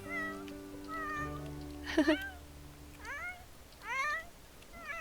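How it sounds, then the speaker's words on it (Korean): Two or three drawn-out cartoonish cat meows rise and fall over soft background music and game sounds in The Sims 4, fairly clear and close. "열심히 야옹대도 들어주지 않죠?"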